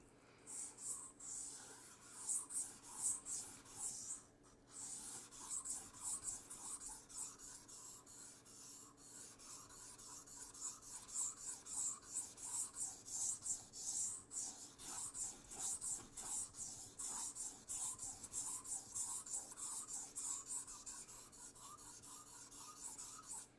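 A Leatherman Signal blade is rasped in steady back-and-forth strokes across a soft sharpening stone, close and faint, with a regular scraping rhythm and no talking.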